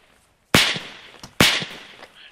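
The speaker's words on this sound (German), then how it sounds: "Schuss." Two loud, crisp gunshots from the military shooter game Arma 3, roughly 0.9 seconds apart, each followed by a short rattling echo and a fainter report trailing off.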